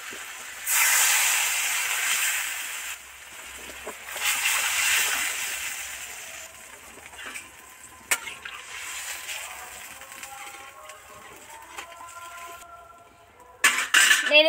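Water poured into hot spices frying in a pan for a fish and cauliflower curry, giving a loud sizzling hiss that bursts up sharply, then settles into a softer, steady sizzle with a few brief clinks close by.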